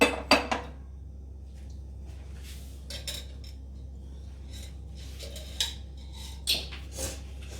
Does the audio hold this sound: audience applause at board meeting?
no